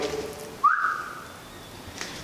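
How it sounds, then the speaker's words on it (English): Inside an abandoned technical college, a person gives one short rising whistle that rings against the empty walls and then fades into a quiet room. "I don't know why I'm whistling at, like, around corners"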